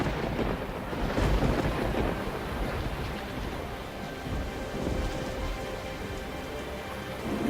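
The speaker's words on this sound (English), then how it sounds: "This happens every time a raindrop hits a puddle." Steady heavy rain falls on wet ground and puddles, a dense, continuous patter with low rumbling, loud and unbroken with no voices.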